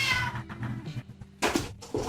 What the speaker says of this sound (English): Hungry cat.